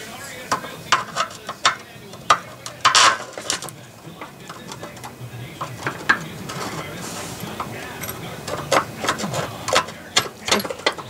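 Bolt being threaded and fastened into an ice castle fish house trailer while fixing its lighting ground, a series of irregular close metallic clicks and ratcheting ticks.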